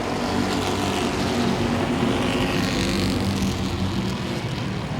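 Super Street race cars roar around Langley Speedway, a dense, continuous engine drone heard from a distance and holding steady at a loud level throughout, with no voices.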